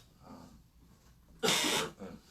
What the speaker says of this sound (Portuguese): Tossir é normal